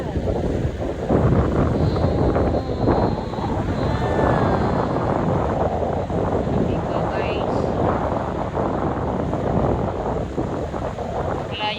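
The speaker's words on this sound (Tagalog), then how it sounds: "Kay sarap ng simoy ng hangin dito sa dagat." Sea breeze by the shore buffeting the microphone in a steady, loud rushing roar, with people talking over it throughout.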